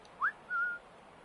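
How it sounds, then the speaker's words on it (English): Two short whistled notes inside the video game Assassin's Creed Rogue: a quick rising chirp and then a longer steady tone, faint and clear over quiet background hiss with no talking. "Come and investigate this weird whistling that you can hear"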